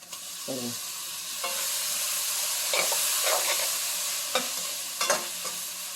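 Onions and tomato sauté in a hot pan for a spicy chicken gravy, giving a steady close sizzle with a few scraping stirs of a spoon against the pan.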